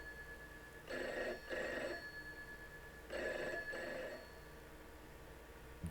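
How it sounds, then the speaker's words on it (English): An old-style telephone bell rings in two double bursts separated by a pause, faint and slightly muffled over a low steady hum, with no talking. "That phone call is from Jack Walten to Felix Kranken."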